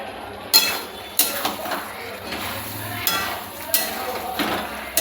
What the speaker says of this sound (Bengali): আমি গ্যাসটাকে এখন কমিয়ে আলুটা মিক্স করছি